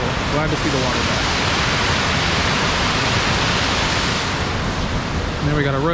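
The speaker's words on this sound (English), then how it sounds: "And you got waterfall on this side with some rocks." Rushing water from a waterfall and fountains tumbling over rocks in a city park, a steady broad roar filling the whole clip, with faint voices talking at moments.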